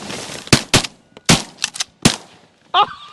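Shotgun blasts during an opening-day duck hunt in Canada: several loud, sharp shots in quick succession, close by, followed by a brief shout.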